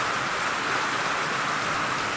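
Heavy rain pours steadily after hot weather in the Philippines, a dense unbroken hiss of drops with no voices.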